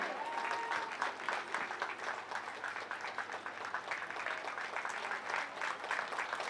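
Enthusiastic audience applause fills a ceremony where mementos are presented as an honor, a dense, steady clatter of many hands clapping throughout without pause.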